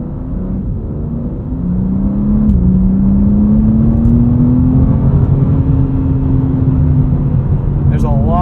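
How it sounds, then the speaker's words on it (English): 2026 BMW M2 CS engine pulling through the gears in normal mode on a back road, a loud, steady cabin drone whose pitch climbs smoothly and dips at a shift, heard from inside the car. "Let's come down from speed and just go through the gears here in normal mode."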